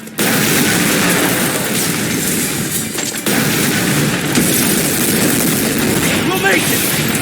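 A loud detonation in the video game Terminator Resistance, followed by a continuous roaring, rumbling blast of explosions and debris with gunfire-like crackling filling the whole stretch.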